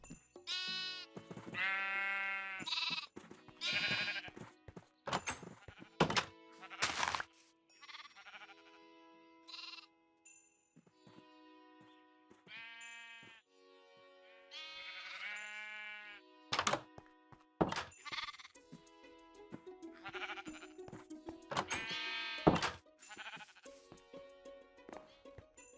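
Sheep bleat repeatedly in Minecraft, several distinct close bleats spread across the stretch with occasional soft knocks and thunks of game sounds between them, with no talk.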